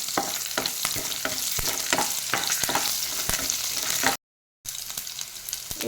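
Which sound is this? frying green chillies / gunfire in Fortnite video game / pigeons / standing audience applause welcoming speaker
frying green chillies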